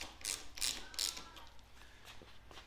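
Two 19 mm nuts on a riser extension breakout are wrenched loose, giving three sharp ratcheting bursts close by, followed by quieter metallic clicks and handling.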